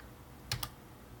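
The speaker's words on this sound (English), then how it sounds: "So I'll type test me now." Two quick, quiet keystrokes close together on a computer keyboard, tapped while entering text into a Raspberry Pi Morse code project, against a soft background hum.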